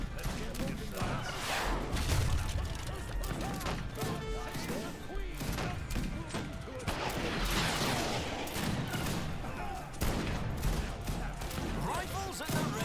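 Repeated musket volleys and scattered gunfire in the Age of Empires 3 video game, dense overlapping bangs and crashes continuing steadily throughout a busy battle mix with voices and game sounds underneath.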